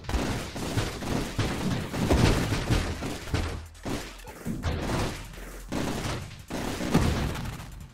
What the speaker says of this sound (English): Really cool when it does the big explosion like that.